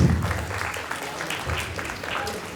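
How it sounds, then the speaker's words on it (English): Parents at a preschool annual day celebration clap and cheer in a broad, sustained burst, the applause strongest at the start and then holding at a steady level with crowd voices blended in. "A big cheers and applause for all my dear parents"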